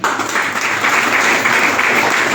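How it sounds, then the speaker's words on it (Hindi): An audience claps together at a direct selling business meeting, with steady, dense applause held at an even level from start to finish and no voices over it. "उनके लिए एक ताली बनती है।"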